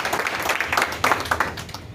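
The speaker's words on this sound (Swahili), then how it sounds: "Tabe mwihurire makofi." A crowd claps hands in steady, dense applause at a gathering held to raise money for a producer whose house burned down, with scattered louder claps standing out over a continuous wash.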